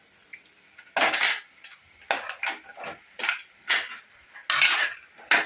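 A metal spatula scrapes and clanks repeatedly against a pan while eggplant with turmeric and spice masala is sautéed for bharit, a rhythmic series of bright, close strokes with short pauses between them and no voices.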